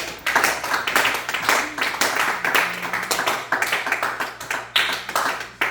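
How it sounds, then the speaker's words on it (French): A church congregation at a Sunday service clapping loudly and steadily, dense rhythmic handclaps filling the room for several seconds with no talk over them. "nous allons acclamer très fort pour la gloire du Seigneur"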